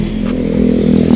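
A Bajaj Avenger motorcycle rolls past on a road, its low engine rumble close and steady and growing slightly louder across a short moment, with no voices.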